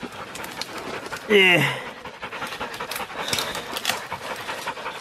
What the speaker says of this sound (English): Yeah, it's one of the dogs.